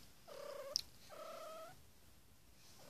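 A small cat gives two drawn-out meows close by, separated by a short pause, with a faint click between them and a third starting at the end.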